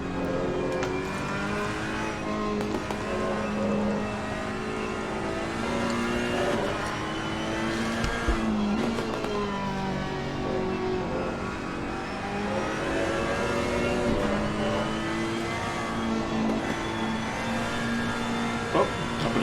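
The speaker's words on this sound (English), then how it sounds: "In the cockpit of the Ferrari. Let's take this car in." A Ferrari race car on a qualifying lap at Spa in a racing video game, its engine droning loudly and continuously, rising and falling in pitch through the revs and gear changes with no pause.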